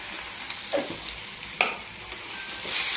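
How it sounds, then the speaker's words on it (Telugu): Raw plantain frying in oil with turmeric: a faint, steady sizzle and hiss broken by a couple of sharp spoon scrapes, close, with no speech. "బాగా ఫ్రై అవ్వాలి."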